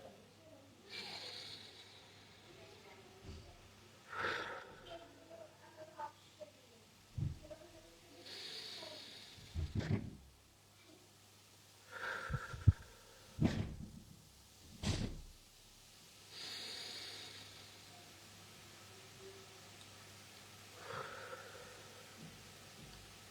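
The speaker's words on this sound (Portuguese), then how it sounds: "respira fundo comigo 3 vezes, pensando só na sua respiração" Slow, deep breaths during a guided breathing exercise, several long, quiet inhales and exhales spaced seconds apart against near silence.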